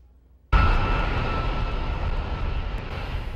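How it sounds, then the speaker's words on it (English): KC-135 air refueling tanker planes landing at Grand Forks Air Base, heard as a loud, steady roar of aircraft engines that starts abruptly and holds with a broad rushing noise. "the planes landed out of harm's way this afternoon"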